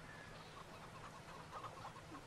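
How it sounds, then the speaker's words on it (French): Chickens cluck softly in the farming game Farming Simulator 22, a few short clucks over a steady low hum. "Nourrir les poules, ça sera très vite fait."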